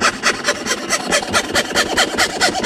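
A hand saw cutting letters into wood in quick, regular back-and-forth strokes, rasping close up at a steady rhythm with no talking.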